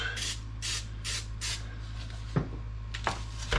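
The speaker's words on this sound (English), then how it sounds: "So I'm gonna go ahead and spray my pan so it won't stick." An aluminum-foil-lined meatloaf pan gets four quick, close hisses of cooking spray in an even rhythm, followed by a few soft knocks and handling sounds.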